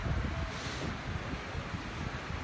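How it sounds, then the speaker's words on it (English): A breezy outdoor gust in Mazatlán buffets the microphone with a steady low rumbling roar that fluctuates slightly, close and continuous for the whole moment. "it's very breezy right now"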